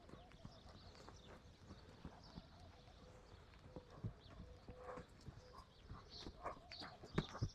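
Horse hooves clip-clopping as the horse circles a few rounds in each direction, faint and somewhat distant, with steady footfalls and light talk in the background.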